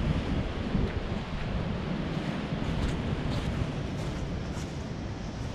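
Strong wind roars steadily and loudly outdoors near a Grand Design camper, buffeting the microphone with a constant low rumble and gusty hiss throughout.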